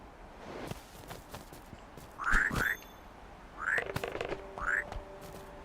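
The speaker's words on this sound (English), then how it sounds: "Let's get these frogs back." Frogs croak in the video game Tall Trails, four or five short, bright, rising calls in two pairs, fairly close and clear over a soft rustling outdoor ambience.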